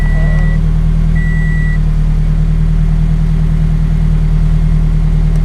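A parked car's engine idles during a car stereo installation, a steady, loud low hum and rumble, unchanging throughout, with a couple of faint high tones briefly on top.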